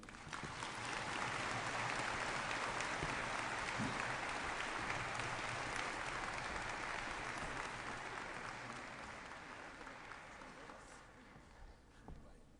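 Sustained, fairly distant applause from a large crowd at the CITES COP17 opening ceremony, a dense even wash of clapping for the President that slowly fades toward the end.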